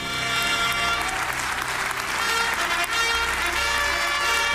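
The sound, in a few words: ovation for Donald Trump in the Israeli Parliament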